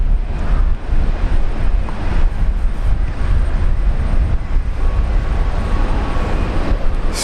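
An airliner departing Brisbane Airport during the morning rush: a loud, steady roar of jet engines filling the whole clip, broad and unbroken, heard from nearby with no voices.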